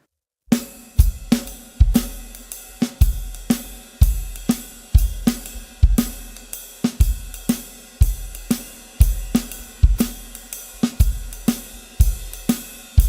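Drum kit playing a jazz beat, a steady swung pattern of regular sharp hits with ride-cymbal wash, close and loud, with no talking.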